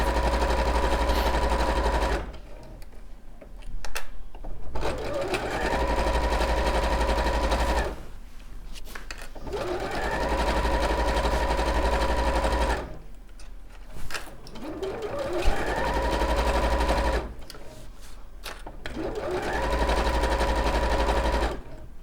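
A sewing machine top stitches down both sides of a bag handle in four long steady runs, each a fast even whirring buzz lasting several seconds, separated by brief pauses with faint handling noises; set to a 3.5 stitch length.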